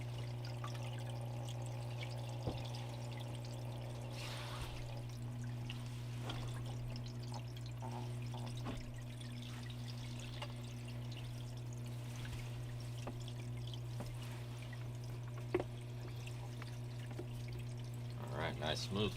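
Water runs steadily through a gold sluice carrying wetted paydirt, a smooth continuous trickling flow under a steady low hum, with a few brief knocks and splashes.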